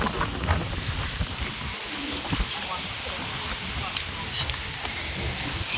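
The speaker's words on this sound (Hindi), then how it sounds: "बहुत जोर से आंधी आ रही।" Strong gusting wind ahead of a rainstorm roars across a village microphone in a steady, broadband rush with buffeting bursts, loud and continuous.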